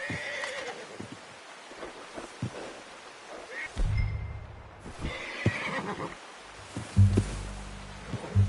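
A horse in the Western video game Red Dead Redemption II whinnies twice, loud and close, between shuffling hoof steps and soft rustling, with no talk during the calls.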